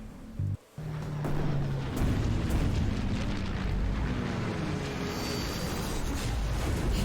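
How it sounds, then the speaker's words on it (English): A video game aircraft crash: a brief swell of sound, then a sudden loud, sustained rumbling roar that fills the whole stretch without letting up. "The generic, like, aircraft crash sound. Heard it in every other video game."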